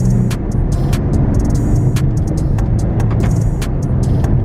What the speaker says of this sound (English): we're gonna do a little bit more of a pull here again and see how the transmission shifts